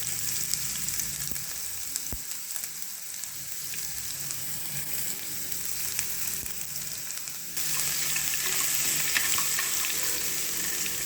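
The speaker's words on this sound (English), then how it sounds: "Now add garlic paste and roast it well." Garlic paste roasting with black gram seeds in a pan for carrot pickle, a steady close sizzle and crackle of frying with occasional stirring, getting a little brighter and louder toward the end.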